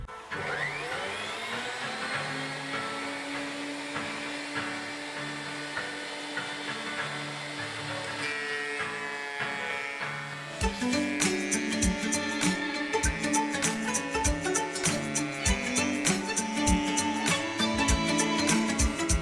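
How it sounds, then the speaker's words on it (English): A wood planer runs as a steady, loud motor whine, then turns harsher and more clattering as a piece of wood feeds through the blades partway in. The racket continues steadily after that. "Now I'm gonna put the wood through the planer and see what happens."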